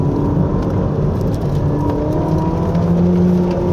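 Ferrari SF90 Stradale engine running continuously in hybrid performance mode on a winding road, a steady loud drone with low harmonic hum and rising tones, close and sustained without speech.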